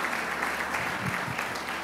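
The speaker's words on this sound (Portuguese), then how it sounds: "Você pode aplaudir o Senhor por isso?" Church congregation applauding during a sermon at an anniversary service, a steady broad wash of clapping throughout, moderately loud and with no voices on top.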